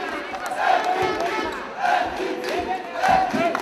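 Basketball arena crowd roaring and cheering in a steady mass, with rising swells and shrill whistles after a game-deciding free throw, loud and close all around.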